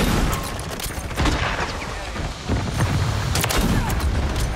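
Friendly mortar strike explosions in Modern Warfare 3 multiplayer, with heavy booming blasts and rapid gunfire crackling together in a loud, dense barrage with several sharp impacts.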